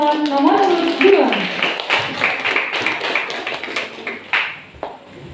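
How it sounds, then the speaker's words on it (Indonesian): Scattered clapping at a student council candidate debate, thin and uneven, with a voice speaking over the start. "Tepuk tangan untuk paslon nomor urut 2."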